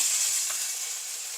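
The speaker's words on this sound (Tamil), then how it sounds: "தாளிக்கிறதுக்கு கடுகு கொஞ்சம் சேர்க்குறேன்" A steady, close hiss of mustard seeds and curry leaves sizzling in hot oil for tempering, with a few small crackles and pops, no voices.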